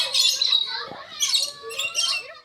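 A black and red bird at a zoo gives a few harsh, squawking calls in short bursts, fairly close and clear against a quiet background.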